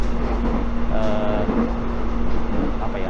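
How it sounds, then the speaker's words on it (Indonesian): Steady low rumble and hum inside a moving electric airport train carriage, with a constant tonal drone and faint mechanical rattles, no talking. "Ya gue udah di dalam kereta bandara"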